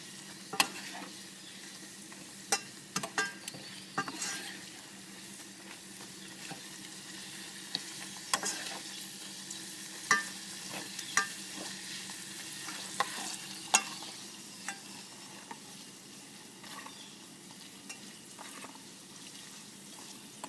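Hot peppers and garlic fry in a pan with a soft, steady sizzle, punctuated by scattered clinks and scrapes of stirring; close but fairly quiet, and no one speaks.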